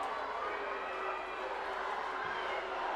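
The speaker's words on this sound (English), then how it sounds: "You hear the crowd getting into it" Crowd at a Gaelic football match, an All-Ireland Minor B Final replay between Antrim and Offaly, with a steady, broad roar and murmur that holds at an even level for the whole stretch, with no clear talk over it.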